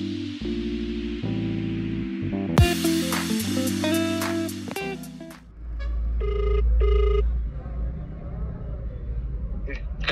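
A mobile phone rings indoors, a repeated electronic ringtone melody chiming loudly for several seconds before it stops, followed by a rustle and low background noise.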